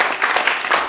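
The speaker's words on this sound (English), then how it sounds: "Can we give a round of applause for our" A panel audience gives a round of applause, a brief dense clatter of many hands clapping together at close range.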